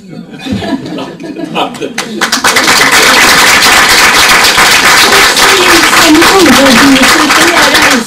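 Applause at a municipal council meeting in Arvika: after a few seconds of talk, a crowd breaks into sustained, even clapping that fills the room loudly and continues to the end.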